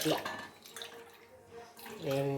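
Hot water is poured by the glassful into a bowl of flour for making urad dal jantikalu dough, a close, brief splashing pour with a person talking before and after.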